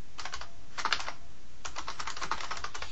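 Close fingers clatter on a computer keyboard in quick bursts of keystrokes separated by short pauses, with no voices.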